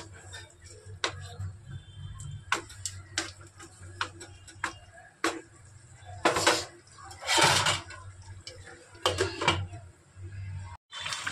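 A spoon stirs chicken cooking in a pot on the stove, producing irregular metallic clinks and knocks against the pot with brief scraping bursts in between.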